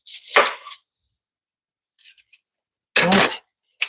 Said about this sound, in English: Get this onion cut.